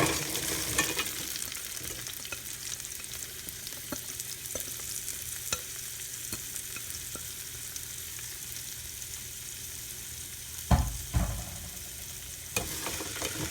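Frozen vegetables and chicken stir-frying in a pan, a steady soft sizzle with scattered utensil scrapes and a few louder clatters near the end, no talking.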